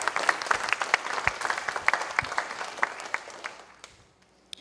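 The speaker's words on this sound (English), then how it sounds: "can we get one more round of applause for him" Audience applause at a symposium: a dense burst of many hands clapping that swells, then thins out and fades near the end, with a last stray clap.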